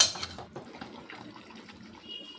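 Tamarind juice is poured into a curry pan of salted fish and eggplant, a short liquid splash and trickle that quickly fades to soft sloshing.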